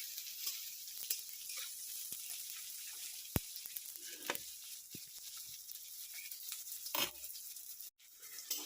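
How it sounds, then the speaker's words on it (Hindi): Onions frying in a pan for a hotel-style tadka until light brown, a quiet steady sizzle broken by a few sharp stirring clicks and scrapes. "प्याज को हल्का ब्राउन कलर हवा पर्यंत आके फ्राई करिवे"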